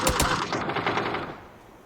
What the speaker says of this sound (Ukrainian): Стріляються з ними.